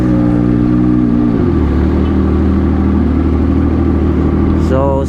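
A CFMOTO 675SR-R sport bike fitted with a side-exit SC Project exhaust drones steadily and loudly up close, its pitch dropping after a second or so and then settling into a constant raw engine note.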